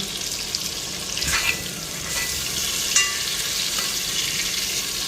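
Fish pieces frying lightly in oil, a steady crackling sizzle throughout with a few brief clinks and stirring scrapes, and no voices.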